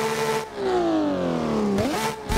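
Ken Block's Hoonipigasus Porsche race car roars in the Assetto Corsa driving game on the Pikes Peak course. The loud engine note sweeps down through the revs, then climbs sharply again after a quick shift, with no one speaking.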